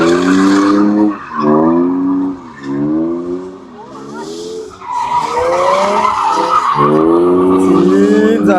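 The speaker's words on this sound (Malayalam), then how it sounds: "അപ്പോൾ ഡ്രിഫ്റ്റിംഗ് വണ്ടി വന്നിട്ടുണ്ട്. എൻ്റെ ഫേവറേറ്റ് ആണ് ഡ്രിഫ്റ്റിങ്ങിൽ. നമുക്ക് അതിൻ്റെ ഡ്രിഫ്റ്റിംഗ് കാണാം." A drift car at a German auto show skids with long squealing tire howls and a revving engine, loud and close, in repeated sweeping bursts with brief pauses.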